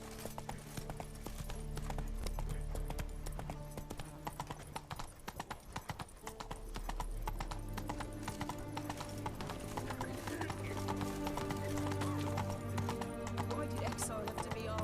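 Hooves of Geralt's horse Roach clip-clop steadily in The Witcher 3, a rhythmic clatter running the whole way beneath in-game speech and background music.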